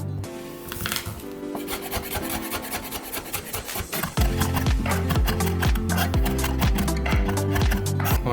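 A knife chops garlic finely on a cutting board in rapid, even taps that grow louder and denser partway through, close and continuous with no talking.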